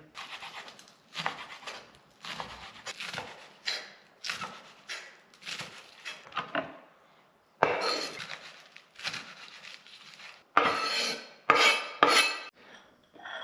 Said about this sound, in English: next we'll wash and cut down the green onion